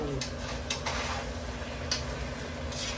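Food for pancit fries in a pan in a home kitchen, giving a steady sizzle with a few sharp clinks and scrapes of a utensil against the pan.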